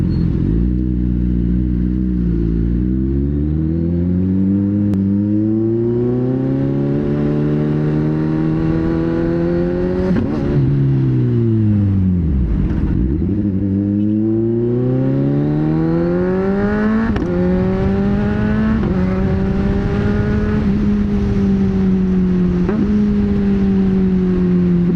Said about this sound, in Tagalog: Pakinggan nyo na lang yung motor guys, kasi speechless na ako sa sobrang sarap ng tunog